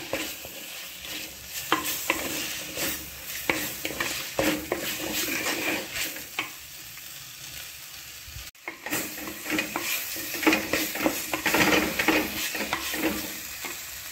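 Bitter gourd is stirred in a frying pan with salt, homemade masala powder, turmeric and asafoetida. A spoon scrapes and taps the pan in an uneven rhythm over a continuous sizzle, with a brief pause midway.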